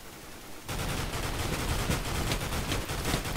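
Gunshots in a Counter Strike mode on the Minecraft Mineplex server: a steady barrage of rapid, crackling shots after a brief quieter start, sustained and fairly loud to the end.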